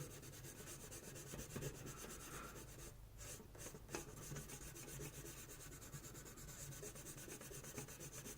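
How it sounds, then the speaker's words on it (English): Soft, steady rubbing of sandpaper on a plastic Gundam model kit part in quick back-and-forth strokes, faint and close, continuing without pause. "as far as sanding it goes, you don't need a lot of pressure"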